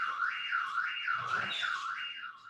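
An alarm sounds in a room, a steady pulsing electronic beeping tone with rhythmic warbles repeating throughout, fairly clear and alone without talk.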